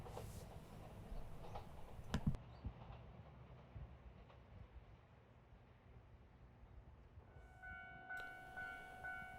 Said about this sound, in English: finally another freight train.